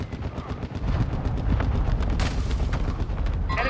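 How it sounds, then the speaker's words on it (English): Booming airstrike explosions in Call of Duty Modern Warfare II rumble heavily, mixed with rattling gunfire in a loud, sustained barrage that builds into a brighter blast near the end. "Hostile airstrike incoming."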